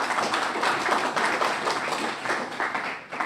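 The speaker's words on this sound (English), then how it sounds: "Let us give them a round of applause and a very warm welcome." Applause welcoming JetBlue Airways at an inaugural flight ceremony, dense steady clapping from a crowd, close and continuous.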